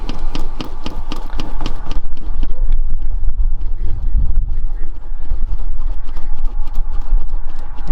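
The fuel system of a UAZ 469 that has sat unused for a while is primed by hand: a quick run of rhythmic mechanical clicks, then slower, irregular knocks over faint wind rumble.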